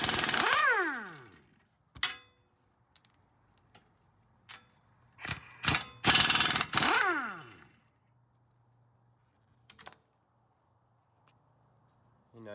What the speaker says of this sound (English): take a 21mm on your impact gun and go over to the lower knuckle bolts